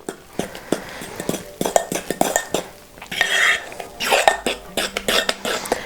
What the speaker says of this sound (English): you just want to whisk it until it's nice and smooth